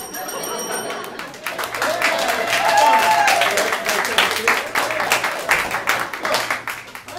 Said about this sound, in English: judging by that applause